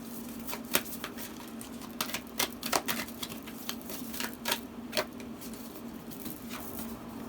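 Moonology oracle deck cards are shuffled and drawn, making a quick run of crisp, close papery flicks and taps in uneven bursts over a faint steady hum.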